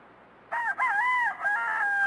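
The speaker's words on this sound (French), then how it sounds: "il est temps de sortir les poules de luxe" A rooster crows once, loud and close, a drawn-out cock-a-doodle-doo after a short quiet moment.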